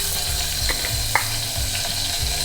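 Mustard seeds, fenugreek and a pinch of asafoetida sizzling in hot sesame oil in a pan, a loud continuous crackling hiss with scattered small pops and a light clink, close up and without speech.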